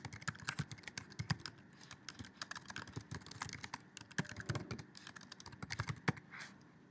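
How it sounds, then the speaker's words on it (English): A message typed on a computer keyboard, with quick, uneven clusters of light key clicks up close and faint, without any talk. "And here you can type in a simple message."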